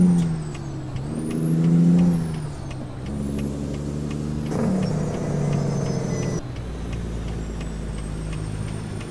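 A Peterbilt 379 truck in American Truck Simulator, its diesel engine rumbling and rising through gears, with sharp air-brake hisses and a heavy low drone as it slows, close and steady with no voices.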